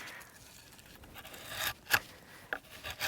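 A bushcraft knife blade planes shavings off wood in a few short, quiet scraping strokes, soft rasping bursts spaced unevenly against near silence.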